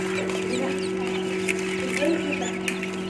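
Newly hatched chicks inside an automatic incubator cheep in scattered, thin chirps over the machine's constant low hum.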